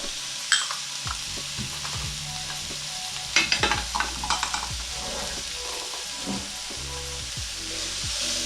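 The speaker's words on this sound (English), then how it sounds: "we're gonna cook this for a few minutes until the the leeks are softened and a little translucent, and the mushrooms are pretty well cooked down and tender" Leeks and mushrooms sauté in a pan with a steady, close sizzle and hiss, broken by the scrape and knock of a utensil stirring them every second or so.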